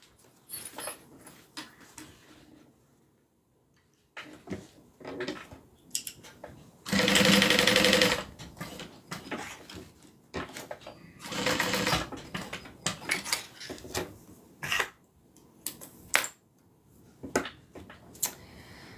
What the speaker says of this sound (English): now I'm just going to sew that down.